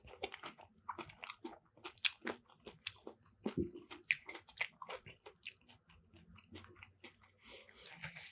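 Close, crisp crunching bites and chewing of a crunchy eel taco, a steady series of sharp crackles with short pauses in between.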